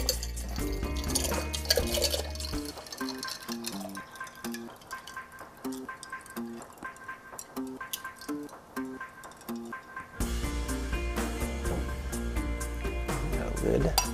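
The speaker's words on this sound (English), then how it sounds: "All right, we're just going to pour the water in right now." Water poured into the reservoir of a Yama cold brew coffee tower, a steady liquid splash and trickle running under soft background music, briefly quieter midway before the pour swells again.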